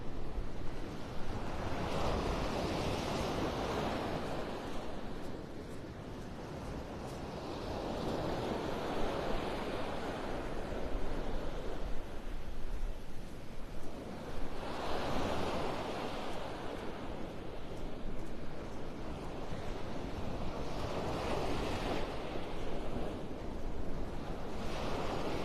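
Ocean surf rolls onto the beach at Pelican Bay in North Naples, Florida, each wave swelling and washing out in slow, steady cycles, with constant wind rushing over the microphone.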